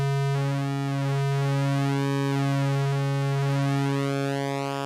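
A steady synthesizer square wave, rich in buzzy harmonics, holds one pitch while its pulse width slowly narrows, thinning and shifting the tone's brightness; the note is continuous, moderately loud and heard alone.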